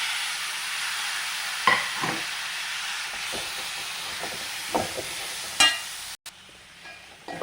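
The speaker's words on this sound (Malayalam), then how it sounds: "ഇനി അതിലേക്ക് രണ്ട് തക്കാളി അരിഞ്ഞു വെച്ചത് ഇട്ട് കൊടുക്കാം" Two chopped tomatoes go into a frying spice masala for an egg roast and get stirred: an even hiss and sizzle broken by several scraping stirs, then a sudden drop to a quieter sizzle near the end.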